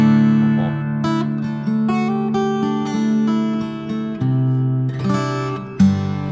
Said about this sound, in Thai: เอฟเฟคทำงานแล้วฮะนี่คือเสียงฮอล